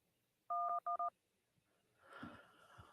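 Three short, loud DTMF keypad beeps sound in quick succession on a call-in phone line, followed by faint line noise and shuffling.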